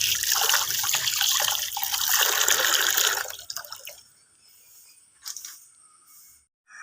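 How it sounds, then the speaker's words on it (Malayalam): Water is poured over salted fish while it is washed. A loud, steady splashing stream runs for about three seconds, then gives way to quieter trickles and scattered drips, with no talking. "ഇതിലേക്ക് വെള്ളം ഒഴിച്ച് നന്നായി കഴുകി എടുക്കാം"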